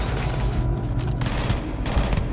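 Rapid gunfire in the sci-fi video game Starfield, a dense sustained volley of shots with booming low end, loud and continuous across the moment.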